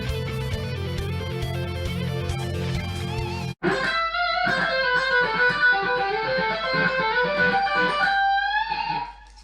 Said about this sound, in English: It starts off with this kind of sweeped arpeggio, and then it has this little melodic kind of fingering movement that kind of moves around.